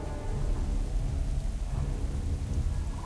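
Rain falls in World of Warcraft's Nazmir zone, a steady wash of rainfall with a deep rumble of thunder underneath, continuous and moderately loud, with no one speaking.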